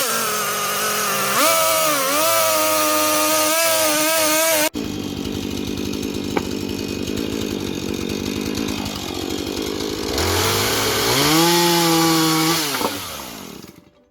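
A chainsaw cuts through timber for building garden beds, its engine whining and bogging as it bites into the wood, then dropping to a steady rattling idle before revving and cutting again, loud and close.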